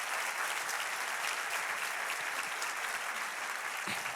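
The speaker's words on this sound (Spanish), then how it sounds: "Dale un aplauso a ese Dios todopoderoso" A church congregation claps together during a service in steady, dense applause that holds evenly throughout, fairly distant and unaccompanied by speech.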